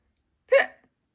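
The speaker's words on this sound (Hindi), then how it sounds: "Except for elephant, he had the hiccups." A single short, sharp hiccup, close and clear against silence, from an elephant in a children's animal story at nap time.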